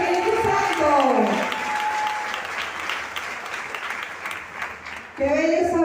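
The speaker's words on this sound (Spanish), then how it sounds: "Dale un aplauso al Espíritu Santo." A church congregation at a prosperity retreat claps together in steady, dense applause under a preacher's voice, the clapping continuing loud and near throughout, then swelling again near the end as singing or speech returns.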